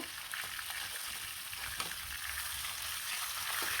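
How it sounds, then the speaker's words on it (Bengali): River fish heads frying in a pan until red-browned, a close, continuous sizzle with a few faint stirring clicks. "আবার লাল লাল করে ভেজে নিব মাছগুলো"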